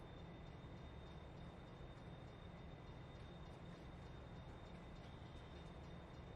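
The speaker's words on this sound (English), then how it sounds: "Start the engine. It's an electric train." An electric freight train in the farming game Farming Simulator 22 gives a steady, even rumble with a faint high whine running through it, held at a constant level and with no speech.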